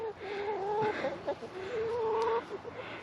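Hens cluck and a rooster calls inside a coop, a run of rising and falling bird voices close by, some drawn out and some short, with no talk over them.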